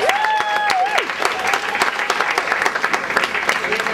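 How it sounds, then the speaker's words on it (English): Guests at a bar mitzvah party give a loud round of applause after a ventriloquist act, dense clapping continuing for several seconds while a brief sung or whistled tone rises at the start and voices mix into the crowd. "Let's have a big round of applause for Mr."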